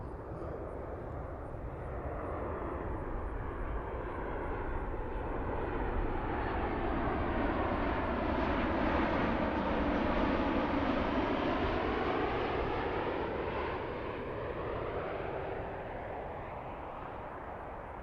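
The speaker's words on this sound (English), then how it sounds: "This again is Copa Airlines flying in from Panama City, Panama." Copa Airlines airliner in from Panama City arriving at Baltimore-Washington airport, a loud, steady jet roar that swells as it passes close, then slowly fades, with no voices over it.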